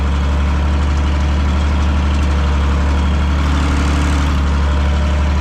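A heavy Fendt or Zetor tractor engine idles steadily close by on a farm, a deep continuous rumble with a constant low throb and no other sounds.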